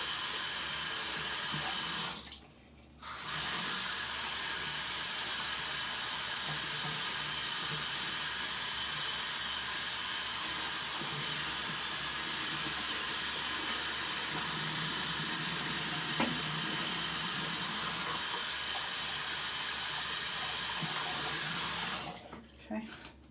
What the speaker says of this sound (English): Let's go ahead and rinse off the brush.